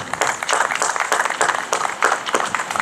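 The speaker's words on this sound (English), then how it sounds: "let's give them a round of applause and say thank you" Audience applause for first responders at a 9-11 memorial in Tuskegee, Alabama: a steady, moderately loud wash of clapping hands across the whole stretch, with a few sharper bursts standing out.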